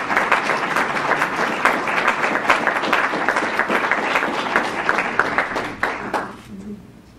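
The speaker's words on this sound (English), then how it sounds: "One more time, applause for that." Dense applause from a large audience at a school board of education meeting, sustained and fairly loud, then tapering off and fading out near the end.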